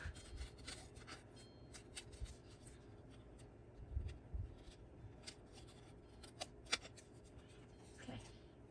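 Scissors snip through a paper journaling card embellishment at a craft table, a run of soft, close crisp cuts and paper rustles with a couple of sharper snips near the middle and end.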